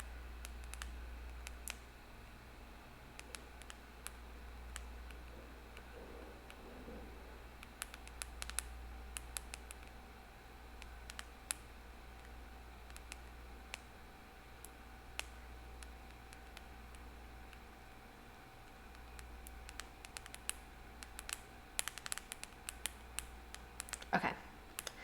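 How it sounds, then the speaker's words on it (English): Keys clack on a computer keyboard for ASMR, with sparse, irregular clicks scattered over a faint background, close but very quiet, and bursts of faster tapping toward the end. "Keyboard ASMR time."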